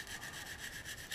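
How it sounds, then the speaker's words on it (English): Sandpaper rubbing steadily over a resin anime figure to smooth away a mold line, a continuous close, scratchy abrasive hiss with gentle back-and-forth pulses throughout. "So as I sand this, you can see the scratches where I sanded away the mold line"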